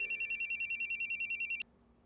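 A telephone rings in a fast, steady electronic trill, about a second and a half of repeated pulses, then cuts off into near silence.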